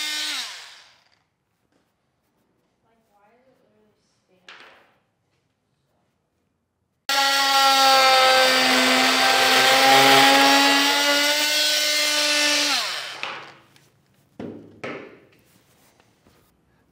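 A power tool trims a section of plastic bumper fascia on a 2023 vehicle during a base plate installation, whirring loudly and steadily for about five seconds with a pitch that drops as it winds down, with faint tool sounds before and after.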